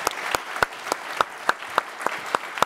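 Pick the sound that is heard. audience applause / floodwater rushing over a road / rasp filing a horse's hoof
audience applause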